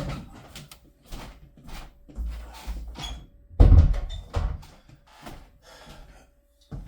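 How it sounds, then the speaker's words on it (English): A door is pushed shut indoors, giving one solid low thud partway through, surrounded by softer shuffling and handling noises close to the microphone. "let me close this door"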